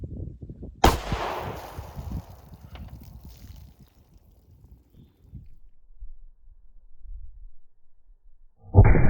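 A single sharp gunshot fires a Winchester Silvertip bullet into a denim-covered meat target backed by a fleece bullet stop, followed by a rumbling decaying tail and quiet afterward.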